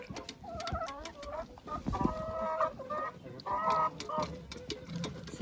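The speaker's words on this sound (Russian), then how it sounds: "Курочка Маран." A black Marans hen clucking in a coop, a run of close, rhythmic throaty clucks and drawn-out calls repeating over a few seconds, with faint background bird chatter.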